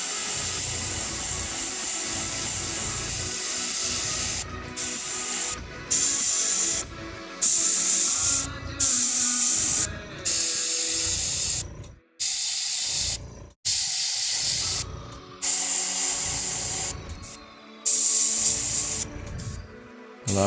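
Steady hiss of air blown over freshly painted parts of a model, drying a chest plate between coats, running near and continuous with brief stops and restarts.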